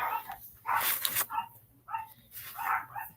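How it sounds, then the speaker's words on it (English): Several neighborhood dogs bark in repeated bursts at moderate distance, with a few whimpering yips mixed in and faint background hum. "The ghetto dogs in the neighborhood."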